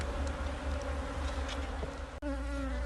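Honeybees buzzing steadily at a WBC hive in August, a dense continuous hum close by with one brief dropout near the end.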